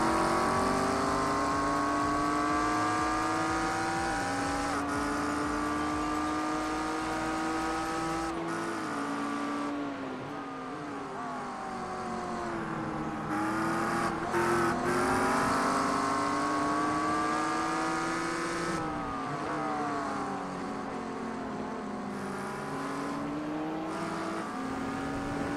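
An LMP2 prototype race car circuits Watkins Glen, its engine note rising and falling in long sweeping pitch bends as it closes in and passes, heard over a steady loud in-car engine drone with no talk.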